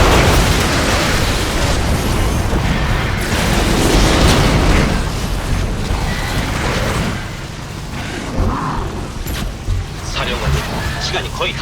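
A video game explosion erupts as a loud, sustained rumbling blast with crackling debris, layered with game sound effects and background voices throughout.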